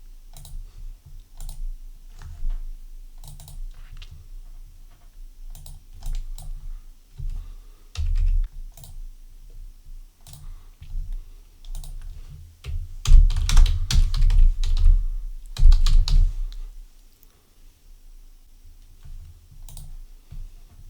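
Computer keyboard typing while stock data is entered into retail point-of-sale software: steady bursts of clicking keystrokes throughout, with a denser, louder flurry in the middle before easing off, close and without talk.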